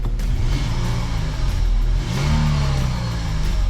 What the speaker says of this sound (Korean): 지금 엔진에 떨림이 있거든요